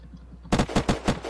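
Rapid gunfire from a player in Unturned 3.0 PvP, about six sharp shots in quick rhythm after a brief quiet lead-in, fairly loud and close.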